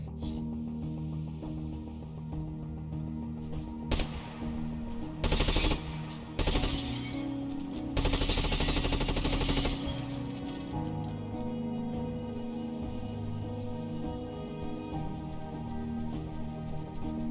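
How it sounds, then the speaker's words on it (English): Gunfire shatters tall vertical quartz crystal pillars in the RTS-FPS game Silica, with bursts of rapid shots and bright glassy breaking and clinking over a steady droning music bed. "Okay, so you can shoot and break them, but you don't get anything."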